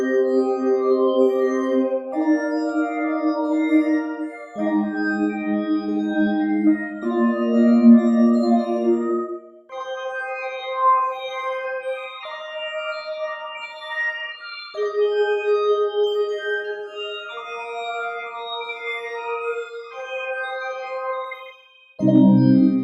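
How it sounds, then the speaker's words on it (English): Kawai K5000S additive synthesizer playing a swirly pad, sustained chords changing every few seconds with shimmering, evolving upper harmonics, clean and alone, ending on a brief lower burst. "swirly additive synth pad."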